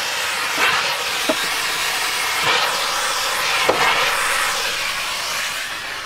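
Steam cleaner steaming a leather car seat, a loud, continuous close hiss of vapor that stays steady throughout with slight surges, and no voices.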